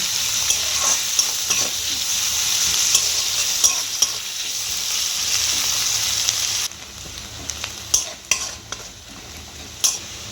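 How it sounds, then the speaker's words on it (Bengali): Chopped onions fry in oil in a pan, giving a steady close sizzle with clinks and scrapes of a spoon stirring, the hiss easing slightly partway through. "এবার আমি পেঁয়াজ কুচিটা দিয়ে দেবো। পেঁয়াজটা একটু লাল লাল করে ভেজে নেব।"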